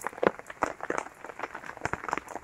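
Heavy rain on garden plants, desert roses outdoors, falls as quick, irregular, faint taps and patters of drops close by, with no voices.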